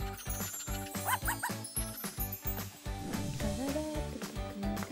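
In a toy play skit, a dog sound gives short barks over a steady rhythmic musical backing, moderately loud, with a few brief yips mixed in.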